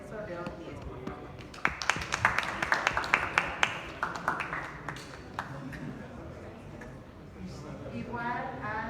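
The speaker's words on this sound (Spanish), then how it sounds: "les pido un fuerte aplauso para el maestro Lorenzo León Díez" Audience at an academic forum applauding a teacher being honoured, scattered sharp claps building into a brief burst of close clapping before fading under a murmur of voices.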